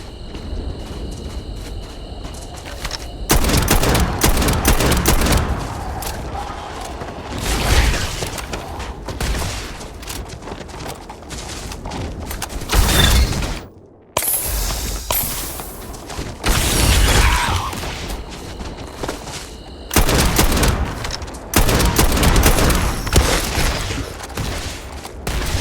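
High-powered .50 caliber rifle fire during a Starfield firefight, with loud shots and booming blasts ringing out through dense, continuous combat noise and a brief silent gap midway.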